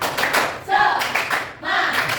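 A classroom of students does a rhythmic spirit clap, with bursts of group clapping and chanting voices in a steady pattern, loud and close.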